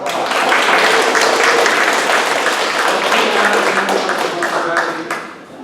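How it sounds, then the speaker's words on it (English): A crowd at an Oak Park Neighborhood Association meeting gives a full round of applause. The clapping is steady and dense for about five seconds, then tapers off at the end. "Let's give Bruce a round of applause."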